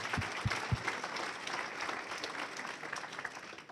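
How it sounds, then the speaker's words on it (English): Audience applause at a chamber of commerce breakfast, a dense patter of clapping that carries steadily through the room, with a few sharper, louder claps near the start. "Please give him a round of applause."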